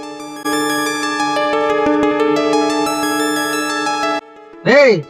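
A synthetic phone ringtone plays a steady melodic tone pattern for about four seconds, then a short rising-and-falling warble closes it.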